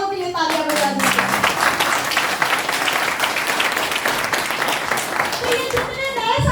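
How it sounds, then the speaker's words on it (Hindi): A seated audience at a meeting applauds new guests, a dense burst of many hands clapping close by, steady and loud throughout. "तो नए मेहमानों के लिए तालियां बजा दीजिए।"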